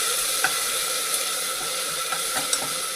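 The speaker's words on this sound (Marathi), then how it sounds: "आता आलं लसूणची आपण पेस्ट टाकूया" Ginger-garlic paste stirred into fried, browned onions for goat trotter soup, giving a steady close sizzle with a few soft clicks of a spoon against the pan.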